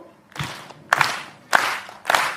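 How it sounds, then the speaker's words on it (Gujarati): A comedy-show audience claps a beat in unison, four sharp group claps spaced roughly evenly, fairly close and loud. "તાળીઓ સાથે એક બીટ આપીશું"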